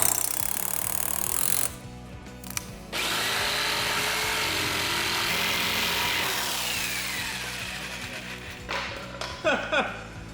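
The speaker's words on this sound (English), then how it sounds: "And then I can come in from the other side with a screw and attach it." A power drill driving a screw into a 2x4 for a storage shelf, loud close whirring in two long bursts with a brief gap between them, ending in short clattery knocks.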